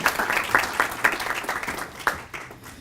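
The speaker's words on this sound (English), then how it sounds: "It's nice to be clapped for when I haven't done" Audience applause at a chamber of commerce lunch event, a moderate crowd clapping steadily with scattered sharper claps, somewhat distant and fading slightly toward the end.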